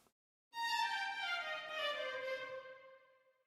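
Sampled solo and ensemble strings playing Mozart: sustained bowed notes with rich harmonics, starting after a brief silence, a bow change shifting one note to the next, slowly fading out.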